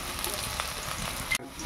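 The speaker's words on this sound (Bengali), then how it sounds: "শুকনো লঙ্কা দিয়ে দিল" Dry red chilies hitting hot oil for a Bengali village fish curry give a steady, fairly quiet sizzle with brief crackles, cutting off abruptly near the end.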